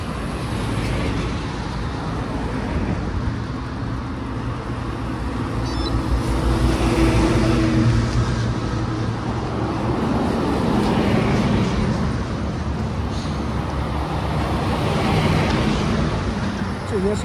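Cars and trucks pass through a road construction section on the G318 highway near Kangding, Sichuan, at about 3251 m altitude, making a steady, loud roadway rumble with engine swells rising and fading.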